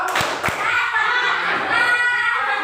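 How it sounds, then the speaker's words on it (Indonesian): Students clap on command in a classroom: two sharp claps near the start, then a wash of voices and chatter. "silakan tepuk satu, tepuk satu, tepuk dua, tepuk dua, tepuk tiga, tepuk satu, dua."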